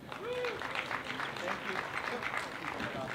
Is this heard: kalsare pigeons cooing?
no